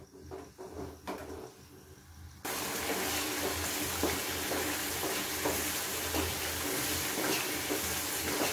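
Spice masala for a mixed vegetable curry of potato, peas and carrot frying in a pan, first with quieter scraping and stirring, then a loud, steady sizzle after about two and a half seconds that continues to the end with light stirring clicks.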